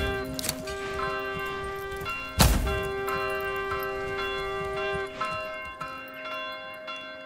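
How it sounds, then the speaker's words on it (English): Alarm bells ringing in the medieval video game Manor Lords, a repeated clanging toll with sustained ringing overtones, over a busy ambient background with a loud strike near the middle. "The bells are tonging."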